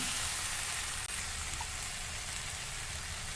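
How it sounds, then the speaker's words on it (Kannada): A pan sizzles steadily while frying a spoonful of sugar for a veg sandwich. The hiss is close and even, with a brief dip partway through and no voices. "ಇನ್ನು ಸ್ವಲ್ಪ ಹುರಿತೇನೆ ಹುರಿದು ತೋರಿಸ್ತೀನಿ"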